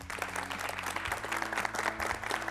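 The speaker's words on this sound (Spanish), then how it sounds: "Un aplauso, por favor," Audience applause for two university debate teams at a televised debate event, a steady dense wash of clapping sustained through the whole stretch at moderate volume with a low hum beneath.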